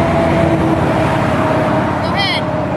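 Road traffic rumbles steadily along a street, with cars going by at a moderate distance and a short higher whine near the end, while a voice speaks over the noise.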